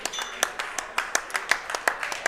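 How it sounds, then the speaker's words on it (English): Hard, loud clapping at a Turnpike Strike team bowling event, roughly a dozen sharp claps in a steady, fast rhythm, close by, with faint background chatter. "Other Rob clapping real hard."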